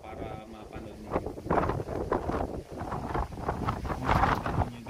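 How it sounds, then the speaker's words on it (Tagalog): Strong wind at sea gusts across the microphone in a steady, rumbling roar with swelling bursts, beneath it faint boat or water noise, while someone talks over it. "Ito yung talagang sobra hangin."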